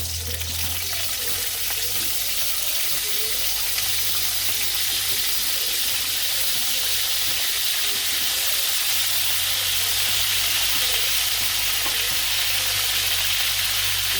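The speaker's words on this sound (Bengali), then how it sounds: "ফুলকপিটে ভেজে নই যে কপিটা দিয়ে দিলাম" Cauliflower frying in a pan, a steady broadband sizzle that holds constant and close throughout with a low hum beneath it, no voices heard.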